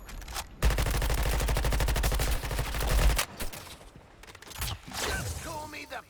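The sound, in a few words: gunfire in a video game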